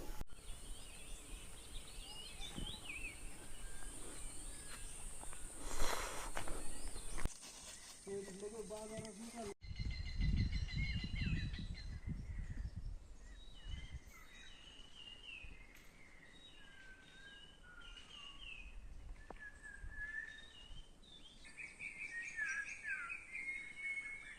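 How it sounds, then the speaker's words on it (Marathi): Several birds sing and chirp in varied, overlapping calls at a moderate distance in a forest, with a brief rustle and a low hum of outdoor ambience. "पक्ष्यांचा आवाज किती भारी ऐकायला येते"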